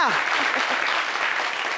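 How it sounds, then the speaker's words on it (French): Studio audience applauding for Benin on a French-language fashion talk show, a dense continuous burst of clapping throughout, fairly loud, with a voice briefly heard over it at the start. "Applaudissez pour le Bénin!"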